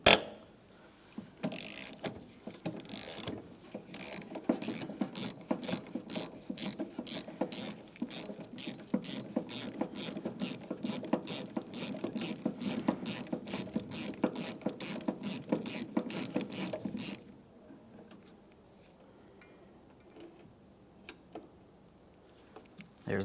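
A ratchet with a swivel clicks rapidly and steadily while loosening 13mm door hinge bolts on a 2003-2011 Mercury Grand Marquis, a close, even run of ticks for about fifteen seconds that then stops.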